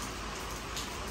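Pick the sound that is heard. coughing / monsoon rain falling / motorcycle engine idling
monsoon rain falling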